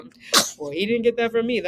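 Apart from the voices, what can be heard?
sneeze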